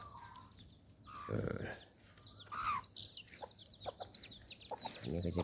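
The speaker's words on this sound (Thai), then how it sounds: "จะมีไก่" Chickens cluck and chirp in short irregular bursts, close by at a rural Thai monk's retreat with rice fields, while someone talks quietly in between.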